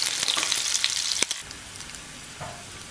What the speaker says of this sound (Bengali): এবার 1টা পেঁয়াজ কুচি করে তেলের মধ্যে দিয়ে দিলাম। আমি হালকা করে ভেজে নেব পেঁয়াজগুলো।